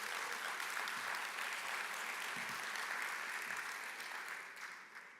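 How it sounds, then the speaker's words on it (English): Attendees at a business investment conference in Jamaica give a steady round of applause, a dense even wash of clapping from a large room that fades slightly toward the end. "Round of applause again for Diane."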